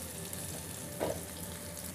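Potatoes fry golden brown in a pan over a medium-high flame for sabudana khichdi, giving a soft, continuous sizzle with one brief stirring clatter midway.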